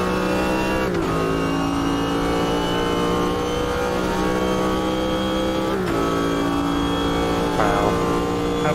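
Race car in Automobilista 2 at Indianapolis, its engine note dropping sharply on downshifts to third gear into turn 1, then building again; loud, continuous and close, with no talk.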